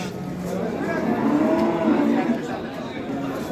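Young bull calves at a livestock market in Beylagan low and moo in drawn-out calls, close by, over a steady background of crowd chatter.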